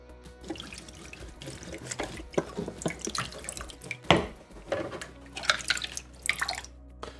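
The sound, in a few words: washing plastic water filter parts in a basin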